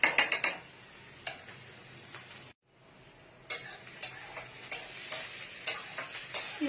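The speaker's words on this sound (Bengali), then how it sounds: "পেঁয়াজটা একটু ভালো ভাজা হচ্ছে, আমি আরেকবার নেড়ে দিলাম।" Onions frying with curry leaves in a pan, a soft sizzle under repeated light clinks and scrapes of a spoon stirring, with a brief pause partway through.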